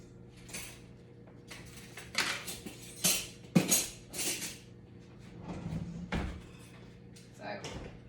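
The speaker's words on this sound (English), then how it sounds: "I am going to pull this off the stove." Double-boiler pot holding melting wax is lifted off a kitchen stove with scattered metallic clanks and scrapes, a few sharp knocks among them, while a person talks throughout.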